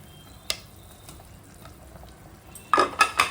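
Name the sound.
fish pieces added one by one to frying masala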